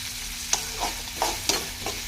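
Cut vegetables sautéing in a pan with mustard seeds and fenugreek, a soft continuous sizzle broken by several sharp stirring scrapes and clinks.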